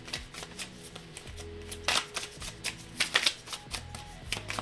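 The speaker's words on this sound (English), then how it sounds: "the shuffling doesn't bother me" A tarot card deck being shuffled by hand, with repeated crisp riffles and soft slaps coming in irregular bursts, close and fairly quiet, with no talking.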